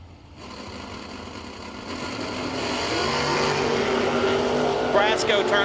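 A drag race launch sends Jeg Coughlin Jr.'s wagon against Darren Frasco's Camaro, a dense high-revving engine roar swelling in and growing louder as the cars pull away, with a commentator talking over it.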